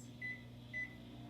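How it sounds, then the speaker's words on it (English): A microwave oven heating soap hums faintly and steadily, with two short, clear beeps about half a second apart and no talk. "Close the door and let's microwave it for 2 minutes."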